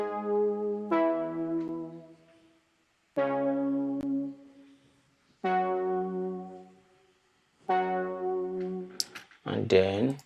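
A synth part from the second verse of a song remake: four sustained, harmonically rich chord swells with short gaps between them, closing with a brighter, busier burst, with no voices.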